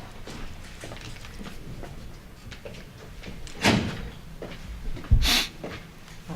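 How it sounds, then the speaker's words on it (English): A door in a meeting room gives a couple of distinct thuds and rattles as someone tugs on it, set against a quiet room with faint background noise. "somebody just tugged on the door back there"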